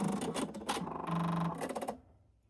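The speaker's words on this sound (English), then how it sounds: "sewing machine." A sewing machine stitches in short, rapid mechanical bursts, running steadily for about a second before stopping, close and fairly quiet with no talking.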